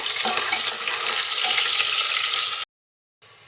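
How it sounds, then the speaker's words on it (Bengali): Chopped onion and whole spices, bay leaves and whole garam masala, sizzle in hot oil while being stirred, a loud continuous frying hiss that cuts off abruptly near the end, then returns faintly. "আরও দিচ্ছি পেঁয়াজ কুচি। একটু নেড়ে নিব।"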